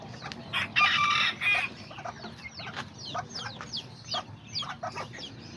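Small Azteca and Serama chickens and a rooster cluck in a yard. A loud crow stands out near the start, followed by a string of short, scattered clucks, all nearby and without talk.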